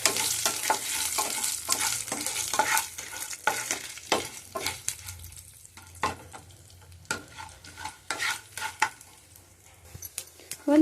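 Green chillies sizzle in oil in a home kitchen pan while being stirred, with steady frying hiss and frequent scraping and clinking of a utensil against the pan, loud and close.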